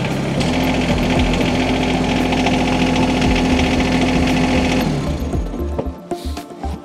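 A tractor engine idles loudly and steadily at close range, its low rumble and rhythmic knock running continuously while the loader lifts the front wheels off the ground, then the engine note drops and turns rougher near the end.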